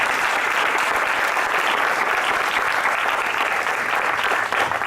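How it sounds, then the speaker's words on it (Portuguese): A church congregation applauds together in sustained, dense clapping that holds steady at full volume throughout, with no voices rising above it. "Então aplauda o Senhor"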